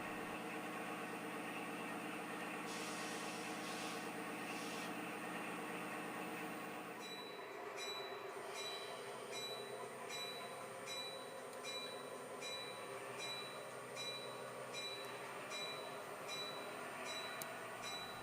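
A freight train reverses off the main line onto the east leg of a wye toward an industrial spur. Steady rumbling engine and wheel noise goes on throughout, with a series of regular high squeals or clicks in the later part.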